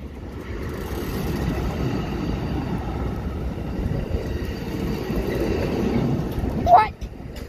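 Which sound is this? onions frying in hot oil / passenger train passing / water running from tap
passenger train passing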